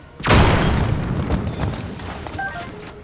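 A bomb detonates in Zelda: Tears of the Kingdom with a sudden loud boom. A long rumbling decay follows, with scattered debris and faint game tones.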